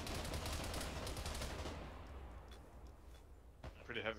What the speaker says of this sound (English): Pretty heavy fire as well.